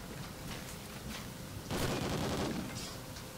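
Sustained automatic gunfire from a heavy-kickback gun in a Call of Duty style Infected multiplayer match, a steady rattling stream that swells louder midway, with no talk over it.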